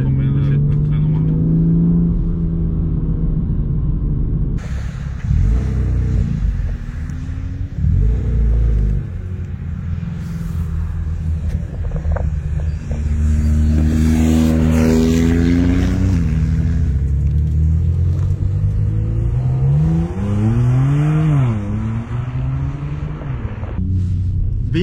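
A BMW M2 Competition with an Akrapovic exhaust revs repeatedly, the engine sweeping up and falling back in loud bursts near the car, while French-speaking voices talk over much of it.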